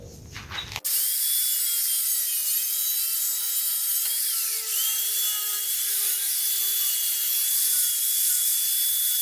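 Wood is cut to trim a custom towing bracket for a tiny house trailer, making a steady, continuous whining cutting sound that stays loud and even throughout after a brief rustle at the start.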